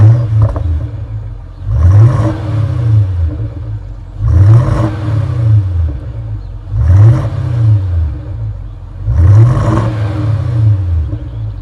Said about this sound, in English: Give it a few revs, now she's nice and warm.